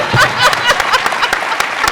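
Brief applause at a speaker series event on metro transit, scattered claps and a few chuckles from the audience, short and uneven.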